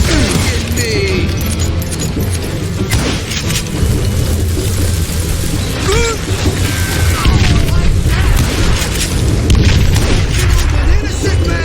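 A dynamite explosion in the video game Call of Juarez Gunslinger comes as a loud, sustained booming blast with crackling debris and gunfire mixed in, filling the whole stretch with dense noise.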